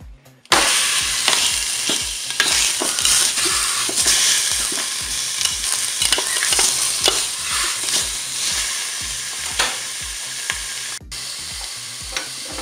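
A roast of meat browning in a preheated Cookeo multicooker pot sizzles loudly and steadily for several seconds, with faint stirring scrapes and no voices.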